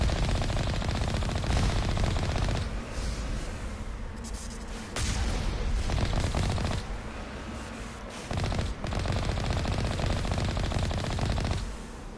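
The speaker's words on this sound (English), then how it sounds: "What is this? Alliance turrets?" Alliance turrets firing in the Mass Effect video game, loud sustained rapid automatic gunfire in dense bursts with brief pauses, close and continuous over the whole stretch.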